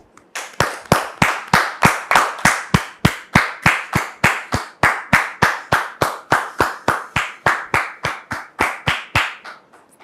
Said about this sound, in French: Merci de recevoir donc Dame Judith sous vos applaudissements avec la permission du pasteur Tchoumou.